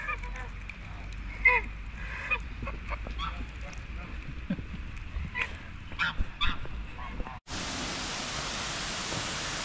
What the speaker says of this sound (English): we've got a load of geese